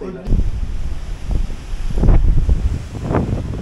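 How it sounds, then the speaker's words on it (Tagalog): Strong wind buffets the microphone in low rumbling gusts, swelling and easing over a few seconds with no clear talk, as light rain begins in Capiz, Philippines. "Biglang umambon, ang lakas ng hangin."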